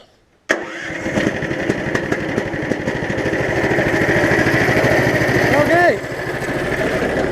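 A Power Fist 420cc engine on a Case 700 tractor project kicks into life after a moment of near silence, then runs loud and close at a steady rapid chug with a brief shift in tone late on.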